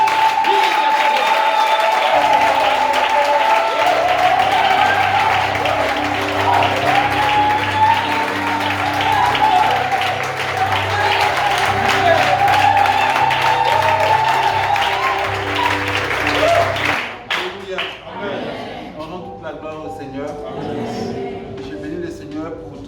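A congregation at a church night vigil claps loudly and continuously, a dense crowd applause with cheering and voices, over steady organ-like music, before it fades out near the end.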